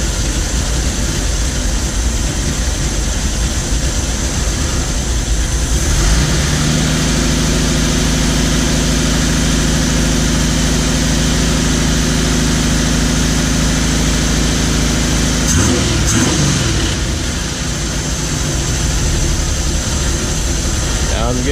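A car engine fitted with a Weber carburetor, freshly tuned up, idles steadily with a low, even rumble and a faint vibrating hum. It stays loud and close, with a brief shift in the tone partway through.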